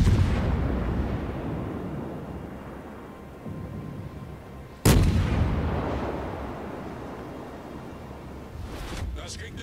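Naval guns boom in the online battle game World of Warships, heavy rumbling salvos with one sharp, loud blast midway followed by long decaying roars, with a voice speaking over the action.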